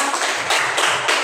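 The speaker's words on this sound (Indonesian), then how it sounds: "Tepuk tangan." Students in a school classroom clap their hands in a brief, dense burst of applause lasting just over a second, close and fairly loud, with no talk over it.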